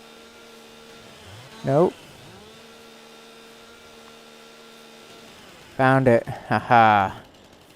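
A chainsaw in Farming Simulator 22 on the Pioneers map drones steadily at idle throughout, its tone dipping and recovering briefly near the start, while someone speaks a few short words twice over it.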